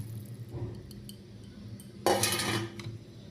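Boiled raw banana and potato tipped into a pan of curry gravy, a sudden loud clattering splash at the two-second mark after quieter kitchen clinks and low rumble.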